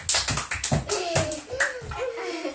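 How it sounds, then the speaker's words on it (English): Slow half-time clapping during a family exercise session: a steady run of about eight claps, close and fairly loud, with a voice heard between them. "Half time round of applause"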